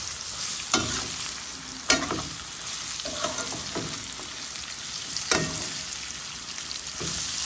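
Potatoes, eggs and bitter gourd stirred and frying in a pan, a continuous loud sizzle broken by a few sharp utensil knocks and scrapes spread across several seconds, no voices.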